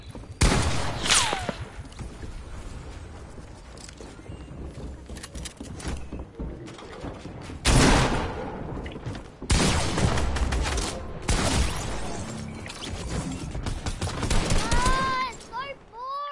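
Video game gunfire in rapid bursts and volleys, loud and close, with bright crackling stretches broken by short pauses and a few distinct shots standing out near the end.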